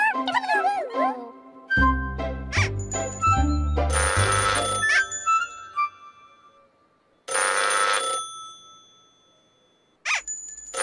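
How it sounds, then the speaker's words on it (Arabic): A telephone rings in an animated children's show, a run of electronic ringtone bursts with musical tones and dialogue around them, the rings clear and close. "إنه الهاتف."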